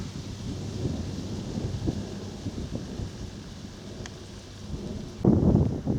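Wind gusting across open countryside during a walk on the Icknield Way near Essex, a continuous broad rushing roar buffeting the microphone, swelling into a stronger gust near the end, with no talk.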